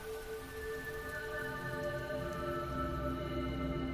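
Steady rain pours down on a town street in Royston, Barnsley, a dense even hiss of drops on the pavement holding constant throughout, close and moderately loud with no voices.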